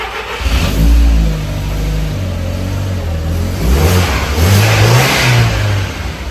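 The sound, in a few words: Audi TT engine starting and revving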